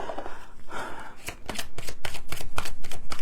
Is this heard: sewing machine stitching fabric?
no